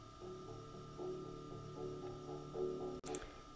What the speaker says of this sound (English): I played a low rhythm with the bow on the low string,